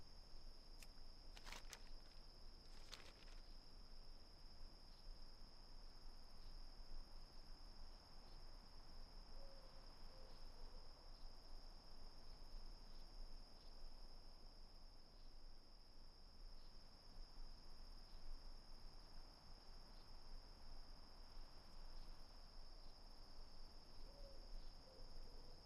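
Crickets in a World of Warcraft night scene chirp in a constant high, thin drone, faint and unbroken, with a few brief sharp clicks early on and an owl-like hoot now and then.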